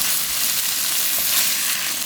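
Soaked bracken fern is stir-fried over high heat in a bubbling garlic seasoning without oil, giving a dense, even, close sizzle that runs unbroken throughout.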